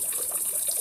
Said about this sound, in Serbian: To je Muratkina voda i njemu je to najdraža voda.